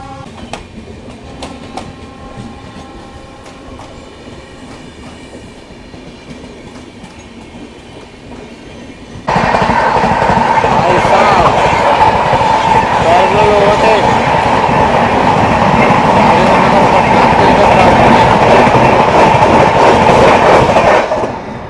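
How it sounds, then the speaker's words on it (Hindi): A Rajendra Nagar Patna Tejas Rajdhani Express overtakes on a parallel track, first as a muffled interior rumble and then as a sudden loud, sustained roar of wheels and rushing air, heard from a train doorway. "राजेंद्र नगर पटना तेजस राजधानी एक्सप्रेस पैरेलल ओवरटेक मार के चली गई यार"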